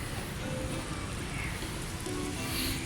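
Steady rain patters continuously on surfaces, a dense, even hiss with soft drops throughout and no voices.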